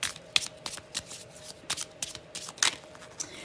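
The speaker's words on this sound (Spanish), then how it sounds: "Vamos ahora a barajar" Tarot cards shuffled up close in a quiet room, a run of quick papery riffles and flicks arriving in short irregular bursts, with no talking.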